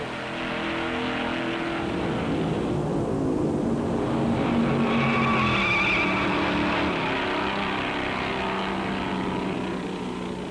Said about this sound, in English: Owens trying to move away from Turner, Myers, and Goldsmith as they turn corners at 116 miles an hour